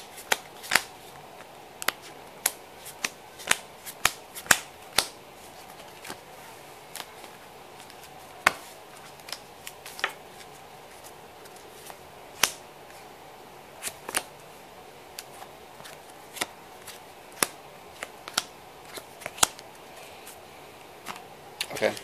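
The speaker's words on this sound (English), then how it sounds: "I actually need to shuffle my deck here real quick." A deck of cards for the board game Baseball Highlights 2045 is shuffled by hand, soft quiet riffles and taps that come in irregular bursts over a faint background, with no talk.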